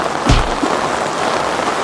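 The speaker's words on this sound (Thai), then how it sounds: "ฝนตก ทุกคนได้ยินเสียงไหมฝนตก" Rain falls steadily over a garden with a plant nursery, a soft continuous hiss with one brief thump near the start.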